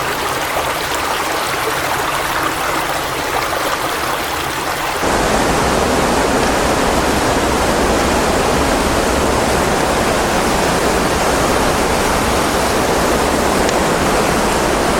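Water pours over a small weir inside an underground river tunnel, a dense continuous roar that jumps louder and fuller partway through and stays steady, echoing and close.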